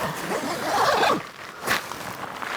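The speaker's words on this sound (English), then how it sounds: "when you're ready to go to bed, zip it all up" A bivy sack zipper is pulled closed in a long, quick rasp followed by a shorter second zip, close up with rustling fabric between.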